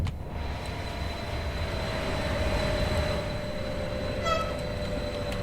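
A FLIRT Express train running in the game Train Sim World 2 between Luzern and Sursee, giving a continuous low rumble with a faint steady tone and a brief whine near the end, without any talk.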